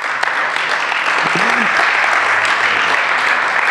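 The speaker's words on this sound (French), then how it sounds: "Alors, on applaudit encore Adèle." A church congregation claps for Adèle, loud, close and steady applause with a few scattered voices beneath.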